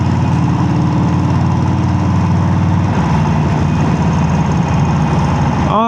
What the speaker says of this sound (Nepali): अनि यो बाइकमा चाहिँ भएको एक्जस्ट चाहिँ के भन्छ, आफ्टर मार्केट हो, छुट्टै बनाएको हो, किनेको होइन।